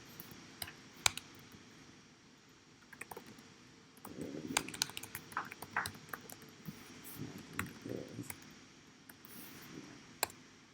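Someone types on a computer keyboard while writing Java code, producing irregular bursts of soft key clicks with brief pauses between them, close and fairly quiet, with no talking.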